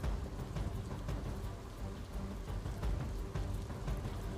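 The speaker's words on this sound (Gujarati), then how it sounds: "અવિરત વરસાદના કારણે જ્યાં જુઓ ત્યાં બસ પાણી જ પાણી નજરે પડી રહ્યું છે" Heavy monsoon rain pours steadily in North India, a dense, constant hiss of water with low rumbles of thunder rolling underneath and no voices.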